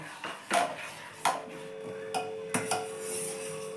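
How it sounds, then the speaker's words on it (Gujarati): A spoon knocks and scrapes against a pan while stirring a boiling jelly mixture, giving several distinct metallic clinks spaced irregularly over a faint bubbling background, close and clear. "એને કન્ટિન્યુ આવી રીતે આમ હલાવતા રહીએ આપણે"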